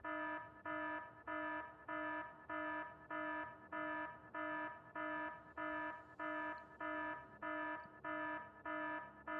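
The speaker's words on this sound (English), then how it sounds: "I have no idea what's beeping." A loud electronic alarm from programmable speakers in the game Factorio beeps in a steady, rapid rhythm, about fifteen evenly spaced tones with no talking.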